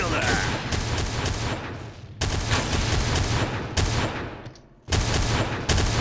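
A Noveske N4 rifle fires in the video game Point Blank in loud, dense full-auto bursts. The rattling volleys are separated by short pauses, with a voice faintly underneath.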